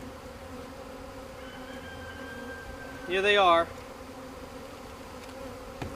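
A mailed package of honey bees gives off a steady, low buzzing hum that continues throughout at moderate volume. A person speaks briefly over it partway through.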